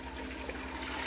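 Water, five cups, poured into the bottom of an Instant Pot, a steady close rushing splash that lasts about a second.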